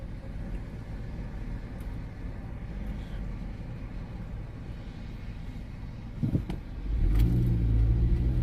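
Toyota Corolla on airbag suspension driving by on a town street: a low steady traffic rumble swells into a louder, close engine roar as the car passes near the end.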